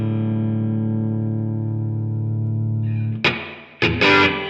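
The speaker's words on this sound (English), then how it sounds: "let's say I want more reverb" A sustained electric guitar chord rings out through a ToneX One pedal with reverb added, the tone decaying smoothly before a few sharper strummed hits close the passage.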